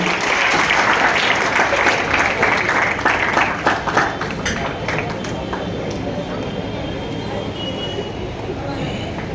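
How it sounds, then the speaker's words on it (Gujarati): Sustained applause from a crowd at an education seminar, loud and steady at first, then thinning into softer scattered clapping with murmuring voices underneath. "જોરદાર તાળીઓથી સન્માન આપણે વધાવી લઈએ"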